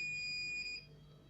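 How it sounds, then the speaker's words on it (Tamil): A buzzer alarm triggered by an ultrasonic sensor sounds one steady high electronic tone that cuts off after under a second, heard close and alone. "இப்போ கரெக்டாக பஸர் ஆன் ஆகிடுச்சு."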